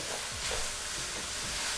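Ground beef sizzles and fries in a pan while being stirred, with soft scraping strokes over a steady close hiss for a couple of seconds; no talking.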